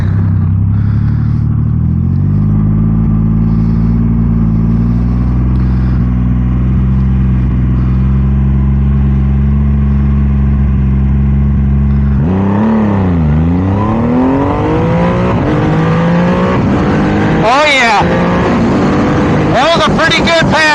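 A Triumph Rocket 3 motorcycle idling with a deep steady rumble, then launching down a dragstrip with a loud rising rev as it accelerates through gears, very close and dominant.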